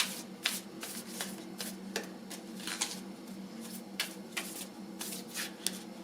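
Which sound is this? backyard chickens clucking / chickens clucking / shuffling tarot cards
shuffling tarot cards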